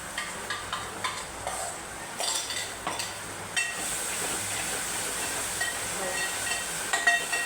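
Ground masala paste for Konkani-style masoor dal aamti sautés in a pan, a soft steady sizzle broken by repeated scraping, stirring scuffs at an uneven rhythm, fairly quiet and with no talking.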